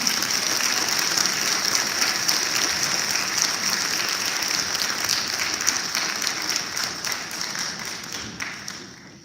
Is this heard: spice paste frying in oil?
no